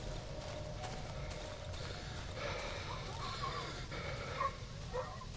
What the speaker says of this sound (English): I think it's just the barking from the barn. Like the ambient noise